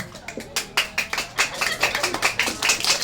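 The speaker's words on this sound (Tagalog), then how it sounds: "Ayan, palakpak muna tayo ha." Hand claps at a birthday party, a burst of uneven claps that rises into steadier applause from several people close by, with voices chattering underneath.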